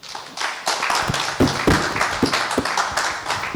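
Audience clapping at a celebration honouring a musical group, a dense patter of many hands with sharper individual claps standing out, fairly close and loud, without talk over it.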